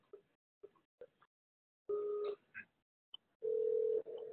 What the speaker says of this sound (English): So now I'll just call that guy again.